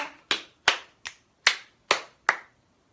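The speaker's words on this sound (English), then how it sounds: "Stomp, clap, stomp, clap." Six sharp, evenly spaced claps or stomps from a fourth-grade music lesson rhythm pattern, crisp and close with quick decays and silence between hits, no talking.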